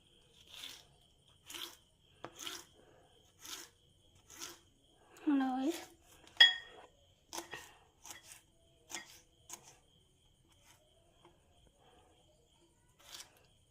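Cabbage leaves chopped with a knife, a regular series of crisp cutting taps roughly one per second, with a short stretch of speech in the middle.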